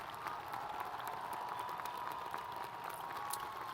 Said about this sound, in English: Please join me in applauding the efforts of these students